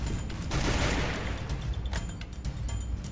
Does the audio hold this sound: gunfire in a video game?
yes